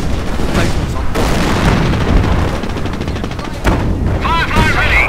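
Gunfire and artillery thunder through a World War II video game battle, a sustained loud barrage of shots and booms with a sharp burst near the end, under shouted voices.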